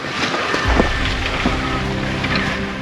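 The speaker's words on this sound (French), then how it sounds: "Le vent est en train de bien se lever en fait, ça commence à moutonner." Strong, rising wind rushing over a Coraille sailboat under way: a dense, steady roar with low buffeting and water wash, loud and close, no talk.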